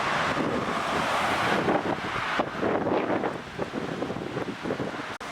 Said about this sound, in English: But the wind is great gusting.